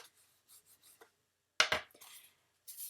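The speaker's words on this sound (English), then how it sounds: "You can take a bone folder, give it a good rub" A bone folder rubs along the creases of a folded paper treat box, making soft, short scraping strokes, faint and close, with one louder rasping sweep partway through.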